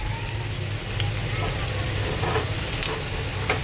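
Potato and carrot pieces frying in a pan, a dense steady sizzle close by with faint crackles and a couple of light utensil taps, no one speaking.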